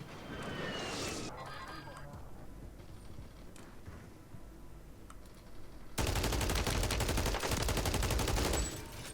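Gunfire in Call of Duty: Warzone, including a light machine gun, with scattered shots early on and then a dense sustained burst of automatic fire for about three seconds before it cuts off.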